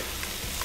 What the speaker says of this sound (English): it is gonna sizzle when we lay it down.